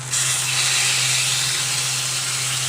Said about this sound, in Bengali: হালকা হালকা ভাজবো বেশি ভাজবো না